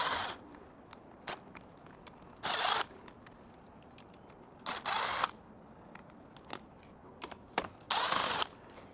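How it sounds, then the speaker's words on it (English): A hand tool works bolts loose on the front of a Vonride A20 electric tricycle, with quick ratcheting bursts and scattered metallic clicks separated by short pauses. "let's start by removing these 4 bolts from the front of the tricycle."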